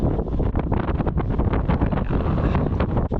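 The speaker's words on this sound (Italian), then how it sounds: "Cos'è questo vento da film dell'orrore?" Strong wind roars steadily and loudly across the microphone outdoors in the Brussa pinewood area near Caorle, buffeting in continuous gusts with a low rumbling rush throughout and no break.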